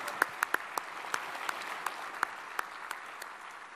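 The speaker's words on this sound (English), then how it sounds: "Can we please have a round of applause for the panelists?" An audience at a sea services panel event applauds the panelists, a sustained patter of many hands clapping with a few sharper close claps standing out, no talk over it.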